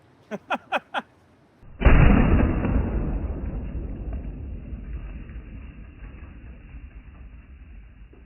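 A Hatsan Escort BTS12 bullpup shotgun fires one loud, close blast that rolls into a long, fading rumble. A few short, sharp blips come just before it.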